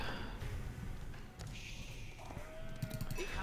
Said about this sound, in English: And we found more sheep